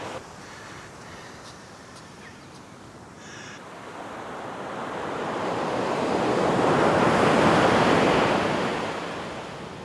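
Sea waves wash onto the beach at Porthleven, Cornwall, a steady surf roar that swells louder toward the middle and then eases, with some wind buffeting the microphone and a few faint clicks early on.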